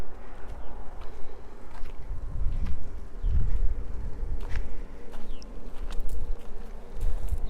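A pool pump hums steadily in the background of an outdoor garden, a low continuous drone beneath rustling, faint clicks and buzzing insects.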